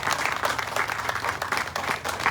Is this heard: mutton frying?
no